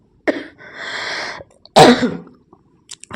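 A single close, loud cough with a short throat-clearing burst before it, heard indoors in a home kitchen during dishwashing, followed by quiet and a few faint clicks.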